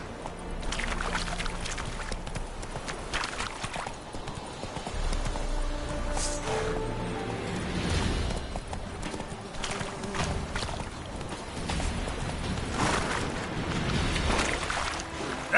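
Horse hooves clip-clop steadily while riding in the video game The Witcher 3, a continuous rhythmic trotting heard up close, with faint water-like ambience beneath.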